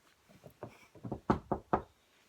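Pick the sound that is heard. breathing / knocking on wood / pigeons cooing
knocking on wood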